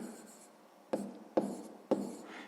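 Pen writing on paper while working through a sixth-grade maths fraction exercise, three distinct short scratching strokes at close range, each starting sharply and trailing off, with soft rustling between and no talking.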